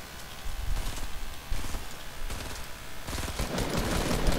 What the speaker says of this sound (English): Shoot it down, shoot it down, shoot it down.